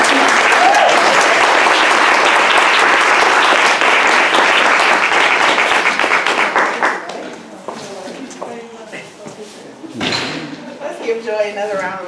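A crowd at a third-anniversary celebration in Marina, California, bursts into loud, sustained applause for about seven seconds, then it tapers into scattered claps with voices talking and laughing over them.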